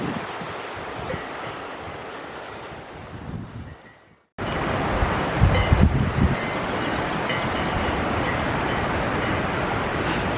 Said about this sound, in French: Avec le vent.